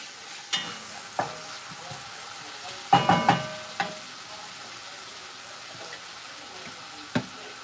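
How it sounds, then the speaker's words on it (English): Bacon cooking down in a pan, stirred with a wooden spoon: a soft steady sizzle under several sharp knocks and scrapes of the spoon, with a busier cluster in the middle, close and alone without talk. "I want that bacon to like really cook down."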